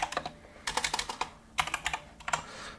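Fast clattery typing on a computer keyboard while filling in a website contact form, bursts of crisp keystrokes broken by brief pauses, close and alone with no talking.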